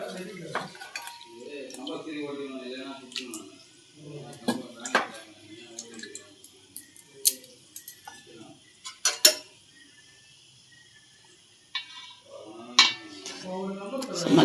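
A metal spoon stirs an anchovy fish curry cooked with old tamarind in a cooking pot, giving scattered clinks and scrapes against the pot between quieter gaps, while someone talks throughout.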